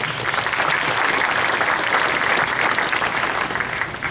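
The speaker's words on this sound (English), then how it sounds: "So let's give him a round of applause." Sustained audience applause for a trumpet player at a high school jazz and steel band summer showcase, loud and steady throughout without a break.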